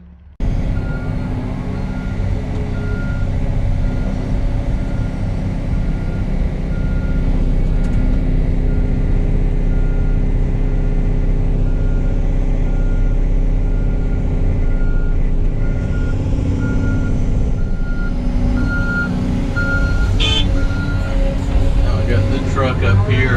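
Heavy truck engine idling and rumbling at a pipe-stacking and grouting site, loud and continuous, with repeated reversing beeps sounding in a regular pattern over the drone.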